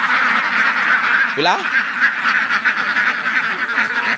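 Ducks on a free range duck farm quack under steady loud outdoor noise, with one clear nearby quack and fainter calls through the rest, while someone talks over them.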